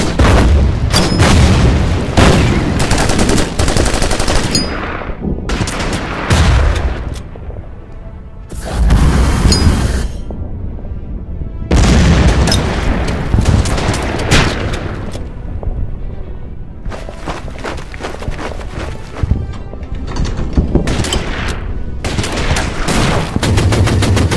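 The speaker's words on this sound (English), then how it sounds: "Man, they have an amazing amount of artillery." Battle effects from the war strategy game Order of Battle: Burma Road: repeated heavy artillery booms and bursts of gunfire come in loud, dense clusters separated by brief lulls, with no talking over them.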